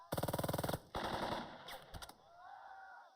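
Machine gun fire in the strategy war game Burden of Command: a rapid, evenly spaced burst of about a dozen shots, then a heavier blast and a few scattered reports fading into a low rumble.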